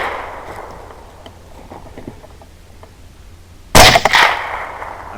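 Rifle shots fired at wild boars during a hog hunt: a sudden loud blast near the end, with a second crack close behind it, breaking into an otherwise quiet outdoor stretch of faint ambient noise.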